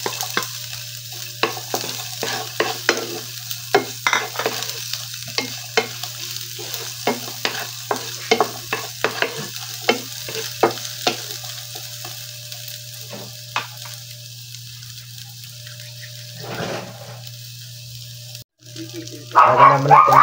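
Onion and garlic sauté in a pan with stirring scrapes and soft sizzling, a series of close clicks and knocks of a utensil against the pan, with brief speech.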